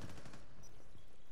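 A quick burst of rapid gunfire in the tactical shooter Rainbow Six, several sharp shots fired close together in a fast rattle lasting about a second.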